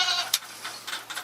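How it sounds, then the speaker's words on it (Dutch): A young goat bleats in several short, thin bursts spread across a second or so, fairly quiet and close, with no talk over it. "Een geitje."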